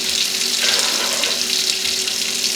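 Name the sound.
water being poured for cooking rice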